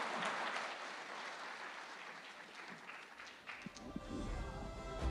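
An audience at the TV9 WITT Summit 2026 applauds Akhilesh Yadav with loud, sustained clapping that fades near the end and then swells again.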